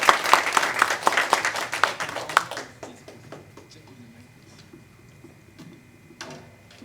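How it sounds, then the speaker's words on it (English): An audience at a startup event gives a round of applause as a CEO walks on stage for a fireside chat; brisk clapping starts strong, then thins to scattered claps and fades into near quiet. "Please, can we give him a round of applause?"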